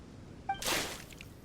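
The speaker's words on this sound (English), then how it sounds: "Main Fräulein means to splash him with water." A single quick water splash in Genshin Impact, a soft hissing wash lasting under half a second after a brief chime, fairly faint and alone.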